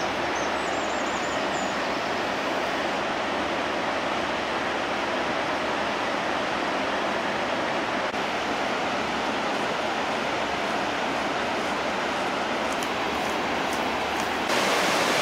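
Waterfall on the path toward the glacier near Melkevoll Bretun campsite in Norway, a steady loud broadband roar of falling water filling the whole stretch without pause.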